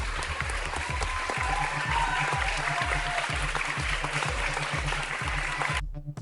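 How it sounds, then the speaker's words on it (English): A round of applause, loud dense clapping from a crowd, steady throughout and cutting off abruptly at the end, with a pulsing low beat of music underneath. "And this round of applause is just for you."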